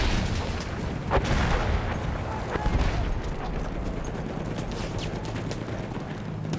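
Ongoing battle noise from a war video game, with scattered gunshots and booms over a steady roar, among them an enemy machine gun firing at a moderate distance.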